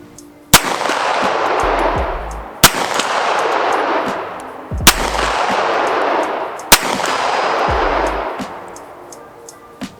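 Four sharp, loud CZ Shadow 2 pistol shots ring out roughly two seconds apart on a foggy outdoor range, each followed by a long rolling echo that decays slowly.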